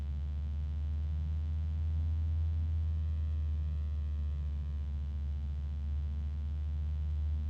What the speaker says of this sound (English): There's a very faint harmonic resonance.